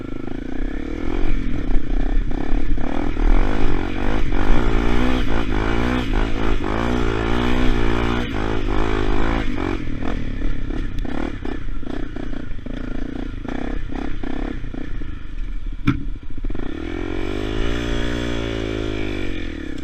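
A Honda CRF250L motorcycle engine drones steadily and loudly on the road, with rising and falling revs and some rattling clatter, ending in a lower idling rumble.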